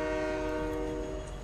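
A train horn blares in Fortnite, a loud sustained multi-tone chord held across the whole stretch over a faint low rumble, with no voices.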